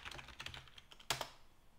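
Typing on a computer keyboard: a quick, uneven run of soft key clicks, with one sharper, louder tap near the end before it falls quiet.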